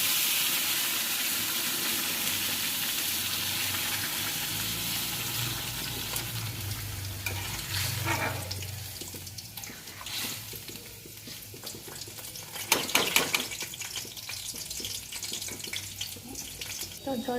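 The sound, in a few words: water added to a frying pan, sizzling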